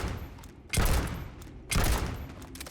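Two heavy shotgun blasts from the Razorback in the video game Starfield, about a second apart, each a loud broadband boom with a fading tail over faint game background sound.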